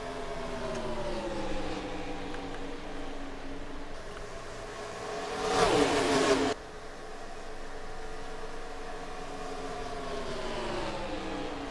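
Stock cars race in iRacing at Kansas, a steady droning engine whine rising and falling with shifting pitch, swelling briefly into a louder rush as cars run side by side, with no talk heard.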